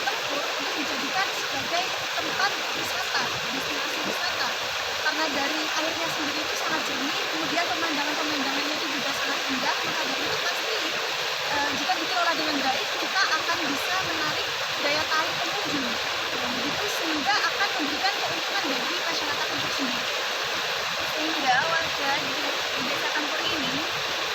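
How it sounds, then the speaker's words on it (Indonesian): A river in Jepara flows with a steady, broadband rushing wash throughout, while a person talks over it. "Nah, sungai ini sangat indah, sangat menarik, dan ini sangat bisa mengumpulkan warga"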